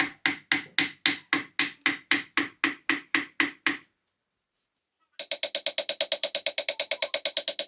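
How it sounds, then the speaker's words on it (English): A hammer strikes a rod driven into the magazine tube of a Marlin 1881 lever-action rifle: a dozen steady, ringing blows, a short silence, then a fast run of about twenty lighter, quicker taps, close and clear. "some hammering against the rod will finish the job."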